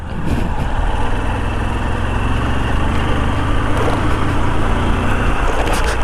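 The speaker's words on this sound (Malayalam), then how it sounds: "അവിടെ ഒരു ബൈക്ക്" Motorbike engine on a narrow road through a small village among tea plantations, a steady close drone with low rumble holding throughout without clear rise or fade.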